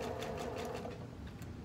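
Sewing machine stitching lingerie elastic onto straight fabric along a folded edge, a fast steady mechanical whirr with rapid needle ticks, close and continuous for a short run.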